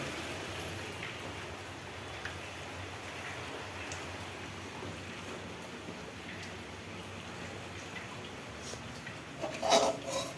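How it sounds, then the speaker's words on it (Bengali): Rain falls steadily in a soft, even hiss, faint and distant, with a small louder splash or knock near the end. "কি সুন্দর বৃষ্টি হচ্ছে"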